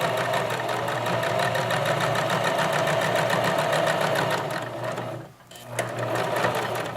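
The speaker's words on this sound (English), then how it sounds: "line it up at the 15, needle down, foot down, sew a few stitches, reverse back a few" Domestic sewing machine stitching a boxer shorts pocket hem, a steady continuous whirring drone with a rapid mechanical needle rhythm that runs loud and close, pauses briefly near the end, then resumes.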